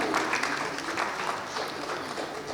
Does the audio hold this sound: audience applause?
yes